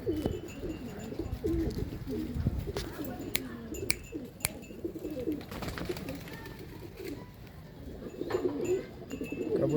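Pigeons in Pandharpur, a well-kept flock of pigeons, cooing in steady rolling bursts close by, with a soft wash of background noise and some faint voices underneath.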